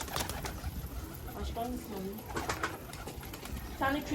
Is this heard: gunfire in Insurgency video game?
no